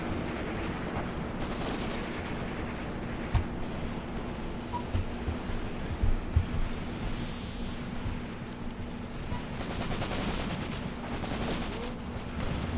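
Gunfire from the WWII tactics game Graviteam Tactics: Mius Front, a steady crackle of distant rifle and machine-gun fire with a few sharper nearby shots over a constant low battlefield drone.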